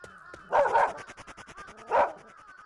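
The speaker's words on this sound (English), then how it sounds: "What are you barking at, boy?" A dog barks in the indie horror game Urayama, two loud, full barks about a second and a half apart, with quieter game sounds ticking between them and no talk over them.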